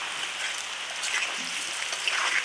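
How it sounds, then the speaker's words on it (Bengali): Steady rain falls in a constant, soft hiss that stays even throughout, with no voices. "হ্যাঁ, বৃষ্টি নামছে"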